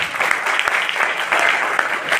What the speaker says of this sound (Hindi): अगर अच्छी लगी हो तो तालियां बजा सकते हैं